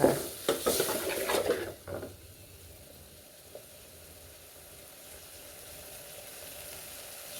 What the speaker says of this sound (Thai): ใส่กะทิลงไปจ้า